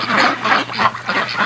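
Several ducks quack in overlapping bursts, fairly close and loud, with steady chatter continuing throughout and no talking.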